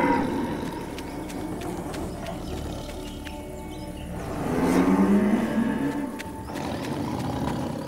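A buffalo in an animated jungle setting gives one long, low lowing call around the middle, rising out of a continuous murky background ambience.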